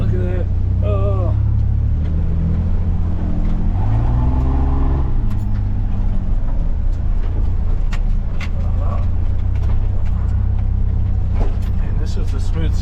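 A 1951 Willys Jeep Truck engine drones steadily while the truck drives through mud, its low rumble continuous and close with brief rises in pitch, and someone talks over it early on.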